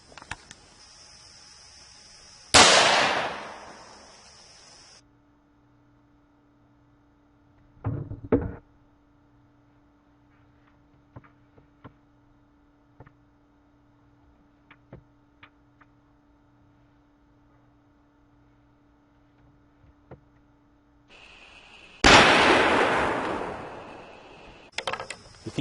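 Two loud, sharp .45 caliber handgun shots strike quarter-inch soft steel plate, one early and one near the end, each followed by a short ringing tail, with faint clicks and near-silence between them.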